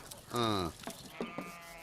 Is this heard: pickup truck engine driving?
no